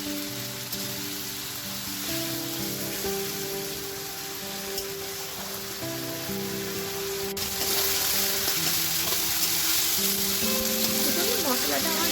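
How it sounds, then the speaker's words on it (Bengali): Spice paste for a bhetki fish curry fries in a pan with a steady, close sizzle, getting a little louder in the second half, with a faint tonal hum underneath. "ভালো করে মশলাটা ভেজে নেব।"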